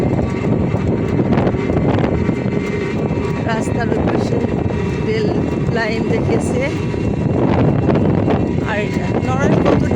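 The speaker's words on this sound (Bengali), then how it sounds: "এই যে আমাদের ভ্যান বাইকটা চালাই নিয়ে যাচ্ছে" A motorized van bike travelling along a road, heard as a constant rough engine rumble mixed with wind buffeting on the microphone, close and loud, while a person talks over it.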